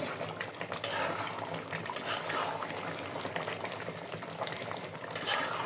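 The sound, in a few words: food being stirred while cooking in a pan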